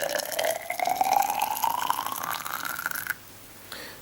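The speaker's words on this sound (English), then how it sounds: "we measure out 100 millilitres of water into each measuring cylinder" Hot water from a freshly boiled kettle poured into measuring cylinders, about 100 ml each, for a thermal insulation practical; a steady liquid stream with rising pitch as the cylinder fills, close and clear, ending abruptly near the end.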